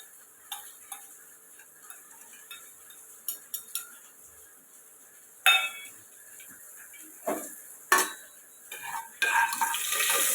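Ingredients go into hot coconut oil in a pot, with scattered metal clinks of spoon and vessel, then a rising sizzle near the end, close and without talk.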